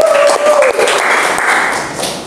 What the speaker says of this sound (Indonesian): kita kasih tepuk tangannya dong